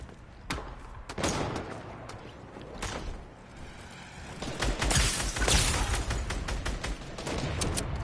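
Gunfire crackles in the Fortnite video game. Several loud, sharp shots are spaced unevenly, then denser bursts follow, some sounding distant, with thuds and mechanical clatter mixed in.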